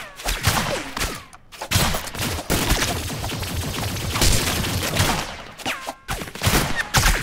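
Gunfire in the video game Rounds, rapid dense volleys of shots nearly filling the clip, broken by a couple of brief gaps, loud and close.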